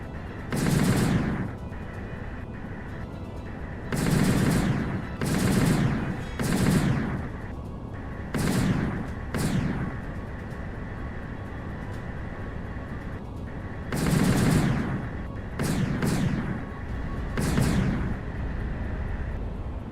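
Repeated bursts of gunfire in the space combat game Starshatter: The Gathering Storm, several loud, sharp volleys spaced irregularly over a steady engine-like hum, with no talking.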